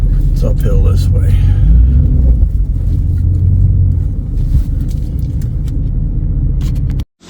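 A pickup truck engine rumbles low and steady while rolling slowly along an uphill dirt road and easing over to the side, close and continuous, with someone talking over it.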